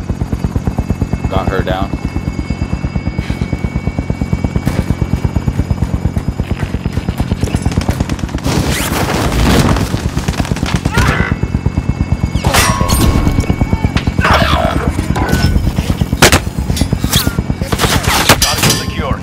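Helicopter rotor thumping steadily with bursts of gunfire in the video game Call of Duty: Modern Warfare, loud throughout, with radio voices and a player speaking over it.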